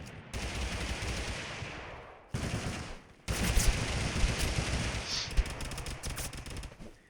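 Rapid automatic gunfire from an enemy in the video game Totally Accurate Battlegrounds rattles in dense, sustained bursts with brief pauses, loud and continuous, with no talking.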